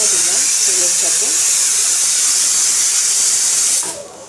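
Asafoetida and bay leaf hit hot oil with a loud, close, steady hiss and sizzle that cuts off near the end, with faint voice-like tones early on.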